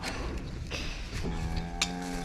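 Cows mooing in a meadow, one long drawn-out low moo near the end preceded by fainter calls, heard amid outdoor ambience with no talking.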